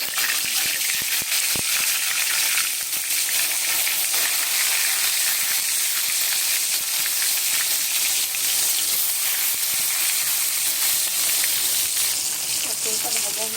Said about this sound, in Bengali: কড়াই গরম হয়ে গেছে, আমি তেলটা দিয়ে দেবো পটলটা ভাজার জন্য